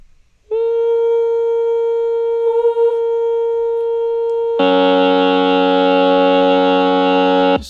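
A sustained choral chord from a vocal ensemble, one voice holding the third on a soft, dulled "ooh" that opens alone before fuller harmony joins near the end, steady and close with no talking.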